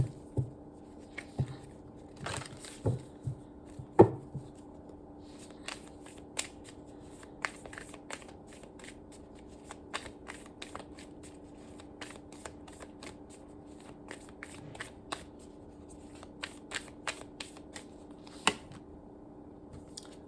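Tarot cards are shuffled for a reading, giving a long run of soft, close riffles and taps at irregular intervals over a steady low hum.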